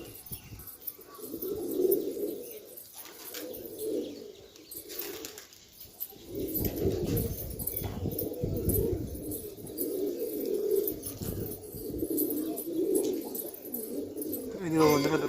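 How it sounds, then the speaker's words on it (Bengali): Giribaj pigeons coo in low, repeated throaty bursts that carry on nearly steadily, with a soft rustle and a brief lull partway through. "দেশি গিরিবাজ সব, গিরিবাজ লাইনের কবুতর"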